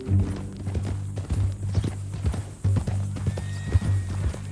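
A horse in the Red Dead Redemption video game clip-clops along at a walk, close hoof strikes repeating irregularly beneath a low background hum, with a brief neigh.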